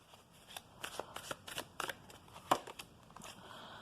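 Tarot cards being shuffled during a reading, a run of quick crisp riffles and flicks in an irregular rhythm, close and fairly quiet with no talking.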